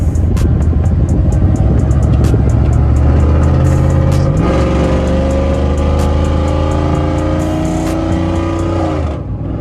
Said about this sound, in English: They go to hearing that exhaust.